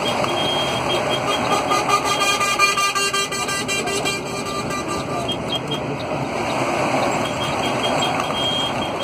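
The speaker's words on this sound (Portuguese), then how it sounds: "Todo mundo buzinou pra mim aí, ó." Continuous truck horn tones and beeping sound during a truckers' convoy on a Curitiba ring road, over a steady rumble of heavy traffic and engines, with honks overlapping for the whole stretch.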